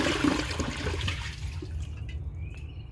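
An Eago toilet flushes with a loud rushing whoosh of water that gradually thins out into quieter trickling and gurgling.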